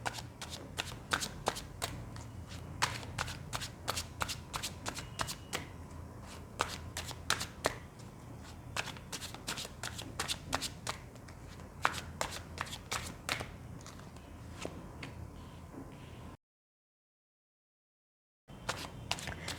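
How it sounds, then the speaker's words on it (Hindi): Tarot cards being shuffled by hand: rapid, crisp riffling flutters and slaps in repeated bursts, close and fairly quiet, with a brief silent gap near the end. "जब तक मैं कार्ड शफल कर रही हूँ आप लोग भी मेडिटेट कीजिए।"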